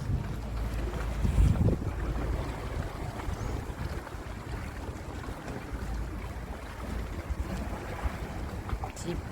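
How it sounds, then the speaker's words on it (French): A small fishing boat passes near a Greek island, its motor a low rumbling drone mixed with heavy wind buffeting and lapping water, steady and fairly loud throughout. "Petit bateau de pêche."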